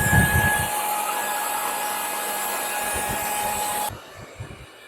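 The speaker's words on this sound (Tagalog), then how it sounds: "Wala epekto yung hair blower eh." A hair dryer blows steadily and loudly at a Starlink router for several seconds, then cuts off abruptly, leaving faint handling noises.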